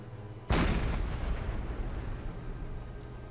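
A submarine deck gun aboard the USS Plunger fires a high explosive shell in Silent Hunter 4: Wolves of the Pacific, a single loud boom followed by a long rumbling decay.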